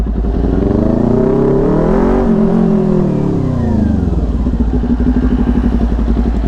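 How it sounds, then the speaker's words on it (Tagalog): Several 400cc big bike motorcycles rumble loud and close, one engine revving up and then easing back down over a steady idling throb. "Ang gaganda ng tunog ng mga 400cc nila."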